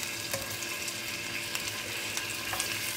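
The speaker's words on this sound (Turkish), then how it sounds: "Kestiğim dönerleri içine şöyle tek tek bırakıyorum" Sliced chicken döner pieces frying in oil in a pan at home, a dense continuous sizzle and crackle close up with faint scattered pops, no talking.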